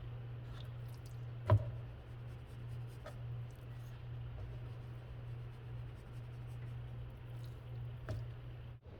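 Hands rubbing seasoning rub onto chicken pieces, both sides: soft close squishing and slapping of wet meat, faint and irregular, over a low steady hum.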